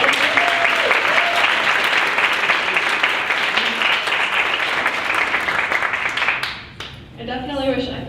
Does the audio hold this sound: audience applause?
yes